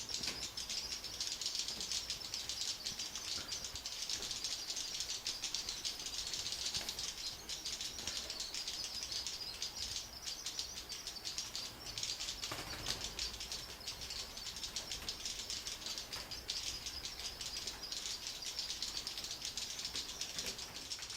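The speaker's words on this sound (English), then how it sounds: "the birds are quite at home, navigating using echolocation that we can hear" Indian swiftlets flying in a pitch-black cave, dense rapid echolocation clicks and fluttering that overlap continuously in a busy, rattling texture, close and steady throughout.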